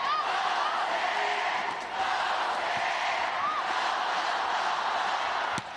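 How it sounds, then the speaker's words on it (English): Fans cheering and yelling in a packed arena during a UAAP Season 86 women's volleyball game between UST and DLSU, a dense, steady roar of crowd voices with whoops rising throughout, loud and continuous. "The USC fans are all out and ready to cheer their team"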